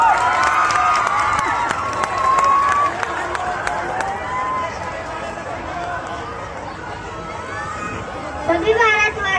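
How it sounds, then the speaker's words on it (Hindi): Children and an audience at a Republic Day school event cheer and clap loudly, a lively crowd roar with shouts and chatter throughout, swelling again near the end. "स्वागत करिए जोरदार तालियों से इन मोदी जी का।"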